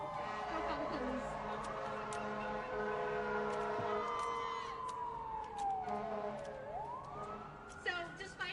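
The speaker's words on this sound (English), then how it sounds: "I'm gonna pause for the sirens." Emergency sirens wail continuously from a moderate distance outside a courthouse, their pitch sweeping slowly up and down, with crowd murmur and voices underneath.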